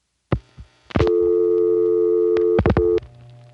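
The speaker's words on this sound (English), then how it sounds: "There's the second dial tone." A steady second telephone dial tone hums for about two seconds on old long-distance switching equipment, bracketed by sharp clicks and thumps of the switching gear before and after.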